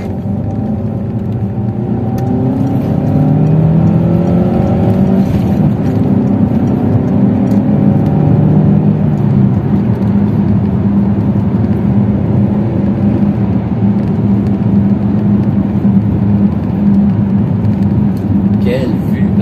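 A car accelerates on a road with a 70 km/h limit to pass a slower car ahead, engine droning steadily and rising in pitch early on, heard from inside the cabin under a voice.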